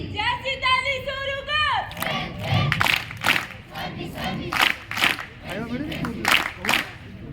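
Audience at a school alumni event applauding to welcome a guest, a lively burst of clapping mixed with crowd cheers following an announcer's voice over a microphone.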